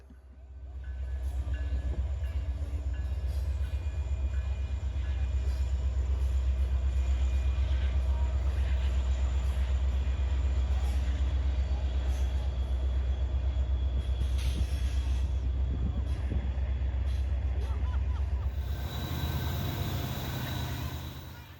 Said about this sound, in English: Here's our eighth train of the day, another westbound going by